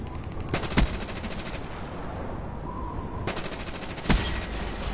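FFAR assault rifle fire in a first-person shooter, heard as two short, loud bursts of rapid shots near the start and end, with a quieter stretch of ambient game noise between them.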